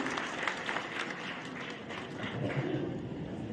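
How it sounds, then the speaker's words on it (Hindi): A hall audience applauds at a welcome ceremony held by the Balotra industrial community for newly elected Dr. Arun Chaudhary, producing dense, sustained clapping at an even level for several seconds. "तालियों की गड़गड़ाहट से इस बात का सभी अभिवादन करें।"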